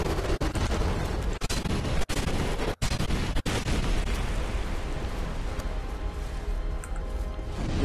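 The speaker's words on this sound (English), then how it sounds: "Fist slam." A boss's fist slams down in Dark Souls 2, part of a thick, rumbling wash of game combat with several sharp heavy impacts early on and a roar that continues after them.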